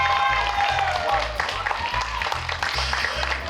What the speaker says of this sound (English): big round of applause for both of them, please